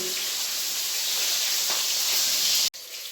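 Pangas fish pieces frying in hot oil give a steady, loud broadband sizzle and hiss close by, continuous for about three seconds before a brief cut and a slightly quieter resumption, with no talking.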